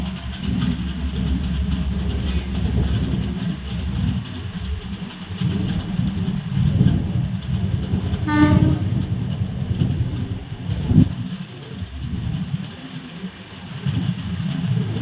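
KSR Bengaluru Express train running on its route near Parassala station, a steady loud rumble of wheels and carriages throughout, with a brief tonal horn blast around the middle and no talking.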